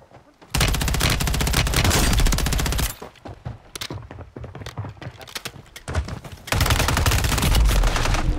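Sustained automatic gunfire in the Warzone video game, loud bursts of rapid shots with brief pauses between them, then another long burst near the end.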